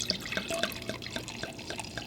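Syrah red wine from a twist-off bottle pours into a glass with a soft, continuous gurgling and light splashing over about two seconds, close and fairly quiet.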